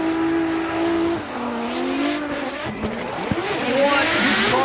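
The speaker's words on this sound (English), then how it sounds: "points from Kohashi and Kalle Rovanpera, driving the KR69 Cusco Racing Red Bull GR Corolla" The KR69 Cusco Racing Red Bull GR Corolla drifts at Fuji during a Formula Drift Japan qualifying run, its engine roaring loud and close while tires squeal with long wavering screeches and revs rise and fall.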